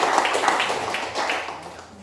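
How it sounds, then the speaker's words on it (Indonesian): A church congregation claps together, a dense patter of many hands that swells and then fades out over two seconds. "Berikan tepuk tangan dulu"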